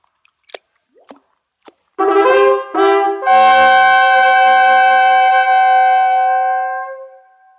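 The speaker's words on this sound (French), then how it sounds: "Poisson, lâchez les bulles." Bubbles released by fish in an animated fairy-tale story: a few soft drips and plops, then a bright bubbling swell that settles into a long, ringing, shimmering tone fading slowly, loud and close with no talk.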